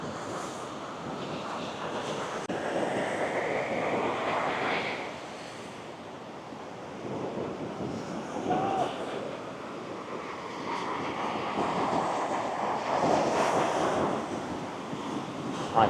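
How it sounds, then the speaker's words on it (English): Big ocean waves surge and wash at Balangan Beach, a surfing beach near Uluwatu in Bali, in a continuous rolling roar with wind buffeting the microphone and no voices. "Look at that ocean. Wow."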